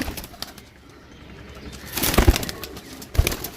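Pigeons cooing softly at close range alongside a brief flutter of wings and a few sharp knocks, the sounds clustering toward the end; no one speaks.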